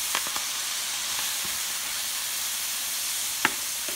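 Collard greens (sukuma wiki) cooking in a pan with curry give a steady, fairly quiet sizzle and hiss, with a few faint utensil clicks and one sharper tap near the end.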